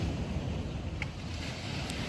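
Steady wind and surf on a seaside promenade with a beach and pier nearby, a constant low rumble of waves and gusting air hitting the microphone, no voices.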